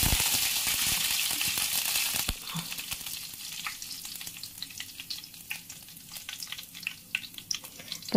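Curry leaves and spices crackle in hot oil for a ripe-banana curry, a loud dense sizzle at first that drops to a quieter steady fry scattered with bright pops and spatters, with no voices.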